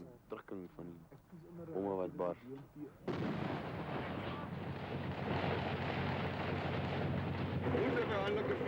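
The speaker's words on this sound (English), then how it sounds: "It's exploding all around us." Heavy, continuous booming and rumbling of explosions and artillery fire during combat between mercenaries and enemy forces, loud and sustained after someone speaks briefly at the start.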